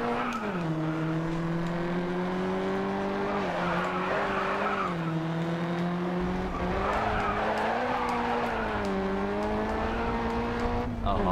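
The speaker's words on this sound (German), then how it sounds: "Oh, wieder schöner Drift hier." A Golf drifting in the Grid Autosport racing game, its engine droning steadily with rising and falling pitch as the tires squeal through the slide; a voice speaks briefly over it.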